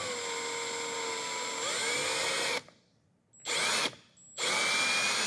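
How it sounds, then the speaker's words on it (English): Small 1/16 inch bit drills through a guitar fretboard in the middle of a fret slot, a steady loud whining drill that stops for about a second, bursts again briefly, pauses, then resumes. "we got a 16th of an inch drill bit, and we're going to go drill right here"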